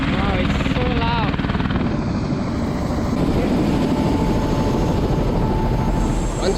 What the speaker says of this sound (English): Within minutes, our helicopter arrived.